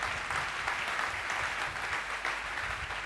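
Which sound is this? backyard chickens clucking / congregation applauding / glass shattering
congregation applauding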